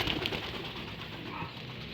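A brief flutter of wings as a pigeon flies into a loft, over soft background noise, with faint cooing from pigeons nearby.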